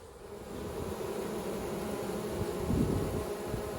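A honeybee swarm being captured in a home beeyard hums with a dense, steady buzz of many bees close by, swelling slightly near the end.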